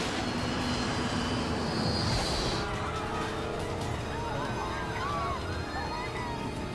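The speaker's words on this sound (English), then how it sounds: "The plane is losing altitude and falling out of the sky." A dense, roaring airliner engine drone of a plane losing altitude fills the scene, loud and continuous, with a descending whine early on and scattered honking calls later.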